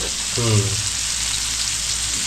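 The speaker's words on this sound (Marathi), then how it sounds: "इकडे एक मच्छी फ्राय होते, तर दुसरी इकडे मच्छी फ्राय होते" Fish frying in a pan for a Konkan-style creek fish thali, a steady bright sizzle throughout, with a short voiced sound briefly rising above it near the start.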